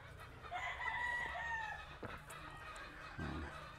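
A rooster crows in a long drawn-out call among other poultry on a gamefowl farm, with a second shorter cluck or crow following and faint background farm noise.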